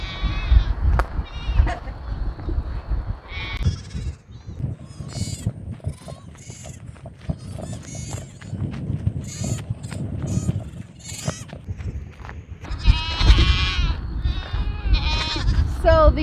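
Young goat kids bleating repeatedly on a farm, several calls overlapping at close to mid range, with a person talking over and between the bleats.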